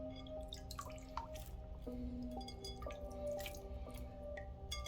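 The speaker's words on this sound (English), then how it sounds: "we're going to dip our hands in again, and we're going to splash the mirror 3 times." Water splashed onto a mirror runs down and drips in quick irregular drops, close and fairly quiet over a steady low tonal background hum.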